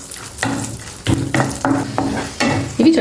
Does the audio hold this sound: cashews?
yes